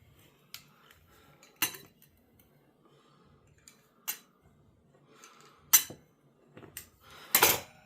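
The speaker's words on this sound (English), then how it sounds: "My pizza cutter on, and I'm just going to quickly kind of run around the bowl." A pizza cutter wheel run around a bowl while making a breakfast pie: sharp metallic clicks and scrapes at irregular intervals, close and bright, growing busier toward the end.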